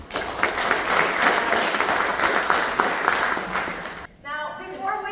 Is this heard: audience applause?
yes